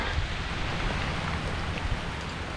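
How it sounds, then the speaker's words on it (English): Heavy rain pours down at night around a stealth campsite in a cemetery, a dense, steady hiss of drops hitting surfaces that fills the whole moment with no talk. "The rain is definitely coming down"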